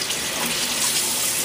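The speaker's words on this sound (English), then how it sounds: "gonna splash some water" Water runs from a faucet into a bathroom sink, filling it for face washing, with a steady close hiss and gush and no break or talking.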